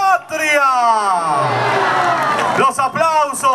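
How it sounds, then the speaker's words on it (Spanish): A patriotic crowd roars with cheers and whoops, a dense, loud swell of voices that builds and holds for a few seconds, with shouting and babble mixed through it. "Los aplausos en todo el país en estos momentos."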